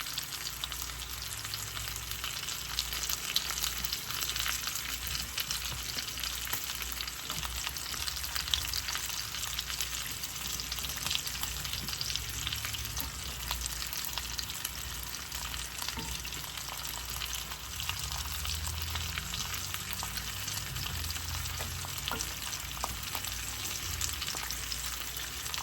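Beef neck bones frying in a pan for a soul food Sunday dinner, a steady close crackling sizzle that runs unbroken throughout with occasional stirring scrapes and no voices.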